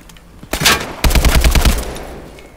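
Loud close bursts of automatic gunfire in the video game Call of Duty: Advanced Warfare, a short volley followed by a longer rapid string of shots that trails off.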